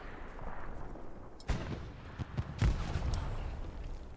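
Grenades going off in an online multiplayer match: a couple of muffled, boomy blasts at a distance over a low rumbling background, with no voices.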